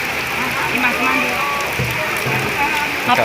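Steady rain falls in a constant close hiss across the whole moment, with faint voices murmuring underneath.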